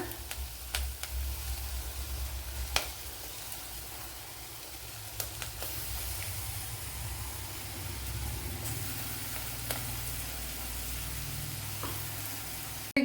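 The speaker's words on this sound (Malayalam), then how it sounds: "അരച്ച് വെച്ചിരിക്കുന്ന അരപ്പ് ഒഴിച്ചു കൊടുക്കാം" Ground spice paste poured into a hot pan for a Kerala-style pumpkin dish, giving a steady, even sizzling hiss over a low rumble, with a few faint clicks and no talking.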